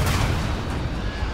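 Grenade explosions in the video game Starfield come as a loud, deep boom with a booming rumble that rolls on and fades, close and forceful.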